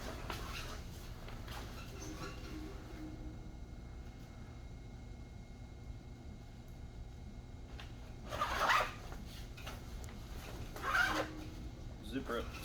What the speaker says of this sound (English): Zipper up the side.